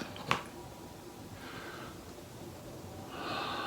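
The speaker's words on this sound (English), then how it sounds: "take a big, full, deep breath" A slow, deep breath is drawn in, quiet and close, with a short sharp sniff at the start and soft airy hiss as the inhale continues.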